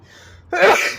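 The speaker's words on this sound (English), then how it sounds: "I had something else I was going to say about the sneeze here." A single sharp sneeze, close and loud, bursting out after a faint breathy intake, with a quiet pause before it.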